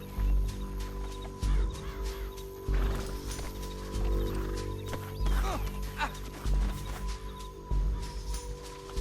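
Horse hooves pounding at a gallop in Red Dead Redemption 2, a loud repeating clip-clop rhythm with snorts and whinnies over a low rumbling game score.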